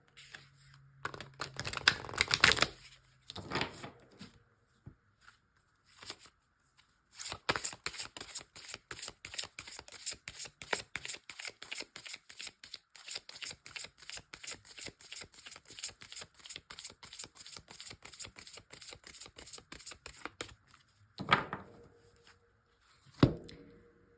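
Oracle cards being shuffled by hand, a long run of rapid crisp riffling clicks in a fast even rhythm, close and alone, framed by a few louder handling sounds at the start and end.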